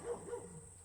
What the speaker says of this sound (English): Interruption from the doggies.